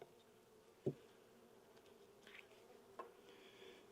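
Honeybees buzz in an open hive that holds a queen and has hive beetles, making a faint, low, steady hum. A sharp knock sounds near the start and a softer one follows later.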